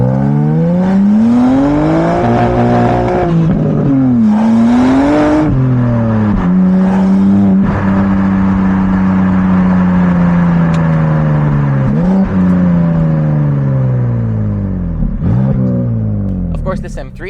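A 2025 BMW M3 with a six-speed manual and rear-wheel drive revs loudly and close by, its engine note climbing and falling in several sweeps before settling into a long sustained drone.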